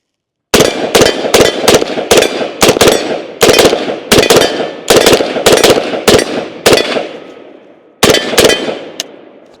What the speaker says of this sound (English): let's go ahead and take a few more shots with it.